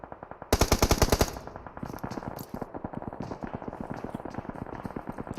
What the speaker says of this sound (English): I think they're trying to shoot at Vex.